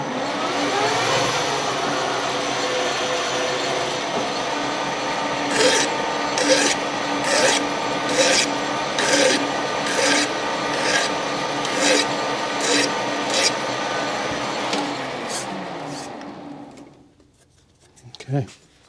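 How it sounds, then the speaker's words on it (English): A metal hand file rasps a chamfer on a Suzuki RM250 dirt-bike shift shaft in a workshop, with about a dozen short strokes in a steady rhythm over a continuous background hum that fades out at the end. "me get my file. And we'll try to work on the chamfer here a little bit."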